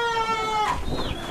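Goats in fattening pens on a livestock farm bleat, a wavering harmonic call followed by a second shorter rising cry, fairly close with some pen noise around it.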